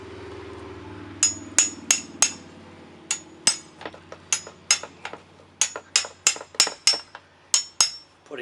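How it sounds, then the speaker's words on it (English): A hammer drives a dull chisel against a cast iron sewage pipe in a string of sharp, ringing metallic blows. The irregular strikes come close and loud over a low background hum. "Just kind of a dull, just a typical chisel."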